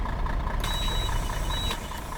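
Bus doors close in the OMSI 2 driving simulator: a steady engine idle hum under a sharp warning beep that sounds twice, once long and once shorter, before the doors thud shut.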